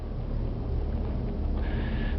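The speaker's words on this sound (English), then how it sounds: "another air conditioning system that's blowing out there" Air conditioning blows inside the cabin of a Bayliner 3870 motoryacht, a steady, close rushing airflow with a low rumble underneath and a faint higher whine near the end.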